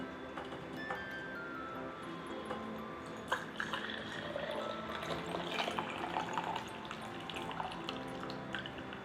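Freshly brewed black tea is strained, with liquid pouring and trickling steadily throughout alongside faint clinks and splashes, close and moderately loud, with no talking.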